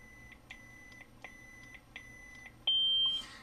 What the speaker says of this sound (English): If you're ever hearing these beeps and the saber's off